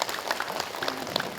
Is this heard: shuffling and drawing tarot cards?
no